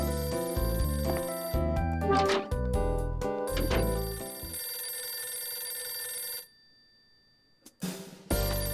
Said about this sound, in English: It's a phone. It's your phone.